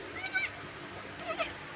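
A young goat kid bleats twice on a farm, two short calls about a second apart over a quiet outdoor background.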